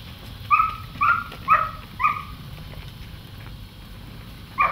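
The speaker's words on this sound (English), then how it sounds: "She's listening to the dog right now." A herding dog barking near cattle, a run of four sharp barks at a moderate distance followed by one more after a pause, over faint outdoor background.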